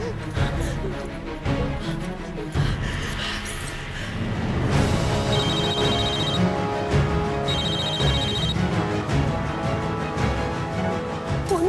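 Telephone ringing in bursts of a repeated electronic trill, twice in a row, under a loud, dense bed of dramatic television background music.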